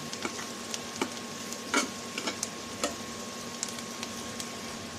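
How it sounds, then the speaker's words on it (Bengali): Onions and green chilies fry with turmeric in a pan for an ilish fish tail bharta recipe, a soft, steady sizzle broken by repeated light scraping and clicking stirs, fairly quiet and close. "কাঁচামরিচ পেঁয়াজটা আমি একটু লাল লাল করে ভেজে নেব"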